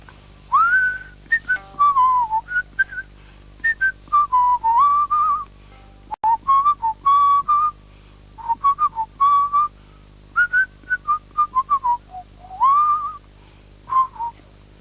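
A person whistles a slow melody alone, phrases of gliding notes separated by short pauses, clear and close throughout.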